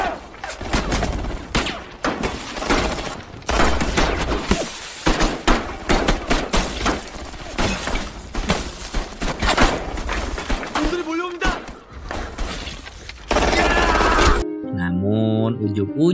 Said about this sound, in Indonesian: salah seorang tentara Korea yang entah datang dari mana menembak Kim Junson